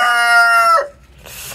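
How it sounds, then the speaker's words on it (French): A rooster crows loudly and close inside a henhouse, one long harmonic call, followed by softer rustling and faint clucking from the hens. "quand on rentre dans le poulailler, les poules dorment là-dedans"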